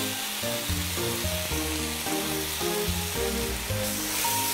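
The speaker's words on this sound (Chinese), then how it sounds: "这已经快煎熟的时候啊，我们把这芝麻啊，白芝麻撒进来" Meat fries and sizzles in a pan with rhythmic stirring and scraping while white sesame seeds are scattered in near the end of cooking, close and continuous, with no talking.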